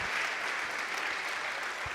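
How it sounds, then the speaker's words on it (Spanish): A congregation claps steadily at a Sunday morning church service, an even continuous wash of applause heard at moderate distance with no voices over it. "un aplauso especial para todos los que se conectan en esta mañana"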